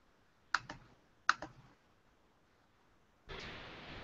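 A few quick bursts of keystrokes on a computer keyboard clack up close in an otherwise quiet room, followed by a steady hiss of background noise.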